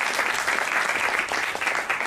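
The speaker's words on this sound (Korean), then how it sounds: "우리 힘차게 박수 한번 해주시기 바랍니다" An audience claps together at a lecture forum, a dense, steady burst of applause filling the room without a pause for the full two seconds, loud and close with no voices on top.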